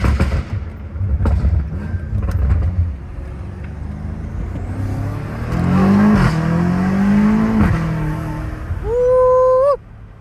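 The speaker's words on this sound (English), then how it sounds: "Those turbos spooling off is like freaking crazy." A downpiped BMW M5 Competition accelerates hard with a loud, close engine roar and crackles, then its turbos spool with rising whistling tones near the end.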